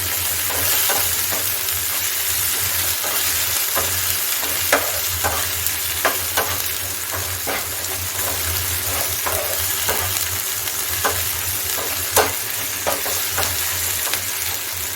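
Onions fry with ginger garlic paste in a pan. A steady, loud sizzle runs throughout, broken by sharp clicks of stirring against the pan.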